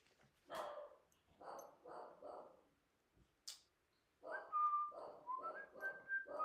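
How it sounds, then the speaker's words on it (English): A little miniature schnauzer barks indoors in the morning: a few sharp barks, a pause, then a faster string of yips, fairly close and moderately loud, with a brief whistle-like squeak in between. "My little mini schnauzer's barking."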